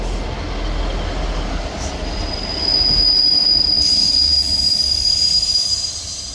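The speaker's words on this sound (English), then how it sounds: "arriving at the same time as the 1507, I believe, ScotRail service from Leven to Edinburgh Waverley" ScotRail service from Leven to Edinburgh Waverley arriving at the platform at Dalmeny, a steady loud rumble of wheels with a thin, high, sustained squeal of brakes or wheels over several seconds.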